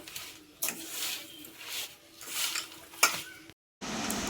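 Dry fruit laddu mixture being mixed and pressed by hand in a bowl, giving soft irregular rustling and sticky squishing bursts with a few sharper scrapes, close and alone.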